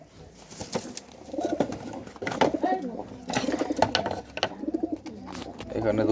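Pigeons caught in 2024 coo repeatedly at close range, their low throaty rolling calls overlapping in a steady rhythm while a person talks over them.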